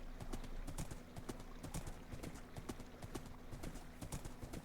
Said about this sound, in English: At least the horse is nice and fast.